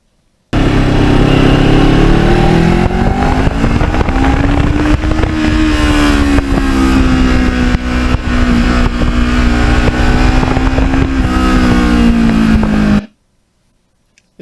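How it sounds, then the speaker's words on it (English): A Kawasaki Ninja motorcycle on an autumn ride purrs steadily as the rider backs off the gas, its smooth engine note gently rising and falling for about twelve seconds before cutting off abruptly. "This bike has such a nice sound when you back off the gas"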